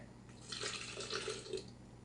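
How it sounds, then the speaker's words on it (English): A cup of water is poured into a bowl of bubbly sourdough starter for homemade bagel dough, making a soft, steady trickle and splash that swells and fades over about two seconds, faint and close. "And then we're going to add a cup of water"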